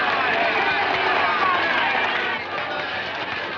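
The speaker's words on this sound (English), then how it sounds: "What a crowd." Crowd noise at a lion show in a 1941 film, a steady roar of an audience with babble, loud throughout with a slight drop partway.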